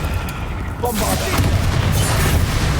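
A Bombarda blasting spell goes off in Hogwarts Legacy during a hard-difficulty fight, a sudden loud burst that swells into a sustained rumbling roar lasting a couple of seconds, with no one talking over it.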